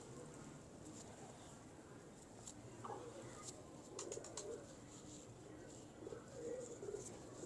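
Pigeons coo softly and intermittently against a steady background hum, with faint chirps scattered through and a voice speaking now and then.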